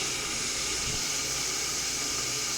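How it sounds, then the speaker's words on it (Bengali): Cumin seeds tempered in hot oil while cooking cucumber, potato and soybean pieces, giving a steady, even hiss of sizzling oil close by with no voices. "আর মশলা বলতে শুধু একটু জিরে ফোড়ন দিলাম।"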